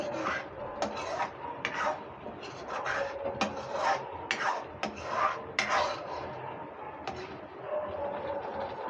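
A khoa mixture is stirred in a pan for laddoos, giving repeated rough scraping and rubbing strokes at an uneven rhythm, close and fairly quiet, with no talk.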